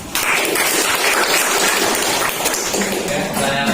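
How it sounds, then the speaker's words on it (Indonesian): Applause from a classroom full of students, a dense, steady clatter of many hands clapping together, loud and sustained throughout with no pauses. "Ya, berikan aplaus."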